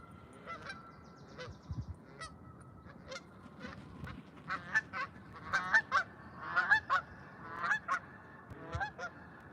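Canada geese honk repeatedly, a flock calling in loud, overlapping bursts that grow busier, with outdoor background noise.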